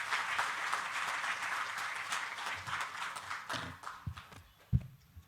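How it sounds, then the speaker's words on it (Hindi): An audience welcomes a speaker at a public health-centre inauguration with steady applause that holds for several seconds, then thins out, leaving a few scattered claps and dull thumps near the end. "जोरदार तालियों से मैम का स्वागत करेंगे"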